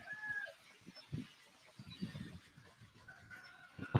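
Chickens cluck and call intermittently on a small farm that also keeps geese, ducks and turkeys, with short scattered bursts at moderate distance and a faint higher bird call early on.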